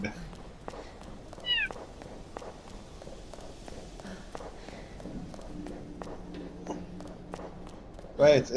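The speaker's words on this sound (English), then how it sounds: "Wait, is that cat your cat?" Short meows from a cat in Resident Evil 2, heard amid in-game footsteps and ambient game sound, with a louder burst near the end.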